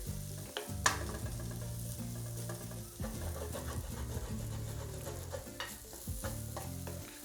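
Shallots sizzle and fry in a pan for venison backstrap, a steady close crackle with scraping stirs and occasional utensil clinks throughout.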